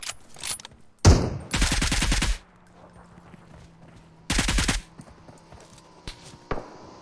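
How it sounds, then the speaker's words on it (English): Automatic gunfire from another player in PUBG Mobile on the Miramar map, two loud rapid bursts of close shots with quieter single shots between, separated by near silence. "Oh, he's shooting us."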